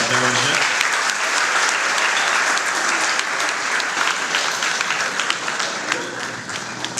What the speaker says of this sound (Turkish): bütün emeği geçen herkesi sahneye alıp bir alkışlarınızı ben rica edeceğim